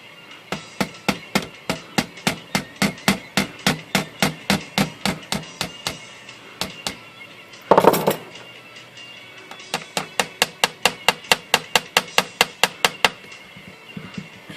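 Rapid, regular hammer taps driving a small brad into an Underwood typewriter platen, dozens of sharp strikes in bursts, with a brief louder clunk midway before the tapping resumes.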